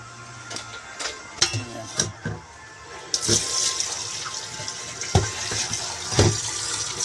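Katuray flowers being rinsed under a running kitchen tap, starting with scattered clinks and handling knocks, then a steady rush of water that continues with splashes and bumps, while a person talks over it.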